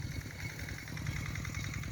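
A tractor ploughing soil up beside plastic mulch film on a watermelon field runs as a faint, steady pulsing engine chug at a distance, with no voices heard.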